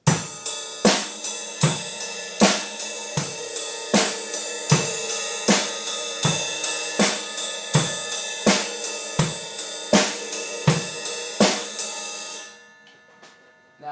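A straight-eighth rock drum beat played on the ride cymbal, with steady shimmering ride strokes in even eighths, punctuated by regular kick and snare hits, loud and close, ending in a fading cymbal wash.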